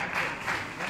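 An audience at a Spanish book presentation gives a short, dense burst of applause, steady clapping filling the room.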